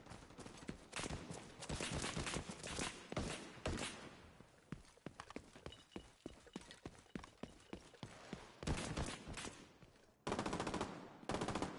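Gunfire in The Division 2 co-op combat, bursts of rapid automatic fire alternating with spaced single shots, some loud and close, others lighter, with brief pauses between volleys.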